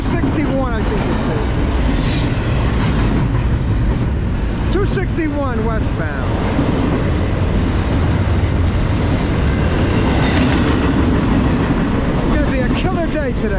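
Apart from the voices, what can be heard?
freight train passing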